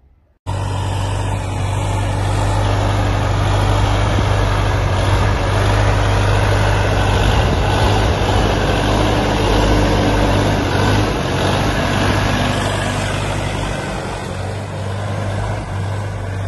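A DTZ-5404 four-wheel-drive tractor with a cab idles close by, a loud, steady low engine rumble holding for the whole stretch without speech.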